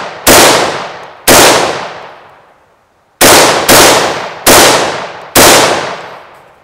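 Six loud, sharp rifle shots from a rifle on a Reap Weaponries SCY chassis, fired at irregular intervals close by. Each crack rings out and decays before the next.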